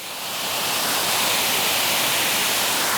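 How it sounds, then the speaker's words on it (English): A waterfall on a brook trout stream roars as a loud, steady rush of broad hiss. The sound swells in at the start and then holds constant, with no voices. "Even nicer waterfall."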